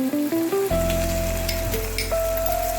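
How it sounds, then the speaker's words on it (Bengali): Spice paste of turmeric, cumin, coriander and chili powder sizzles in hot oil in a wok. A bright, continuous hiss sits beneath loud steady tones that step in pitch. "এবার আমি এই মিশ্রণটি কড়াইয়ের মধ্যে দিয়ে দেবো।"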